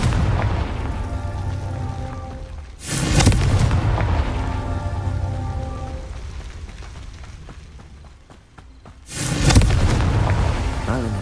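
Confringo fire spell cast in the Hogwarts Legacy video game, two sharp explosive bursts a few seconds apart, each a loud broadband blast over a continuous rumbling game soundscape with musical tones.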